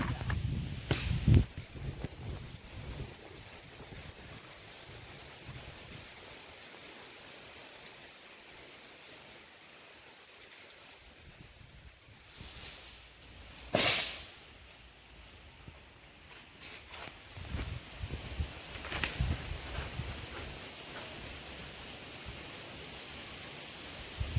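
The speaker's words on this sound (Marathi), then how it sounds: "वारा सुटला जाम." Steady rushing outdoor noise of strong wind blowing through coconut palms, with rustling and a few louder gusts and bumps along the way; no one speaks.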